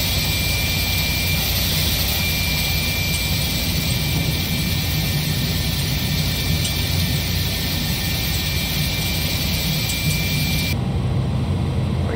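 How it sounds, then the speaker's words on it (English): Airliner jet engines, an iniBuilds A300-600 freighter in the X-Plane 11 flight simulator, run through their start sequence: a constant loud broadband roar with a steady high whine above it, unchanging throughout and with no voices. "begin the engine start sequence."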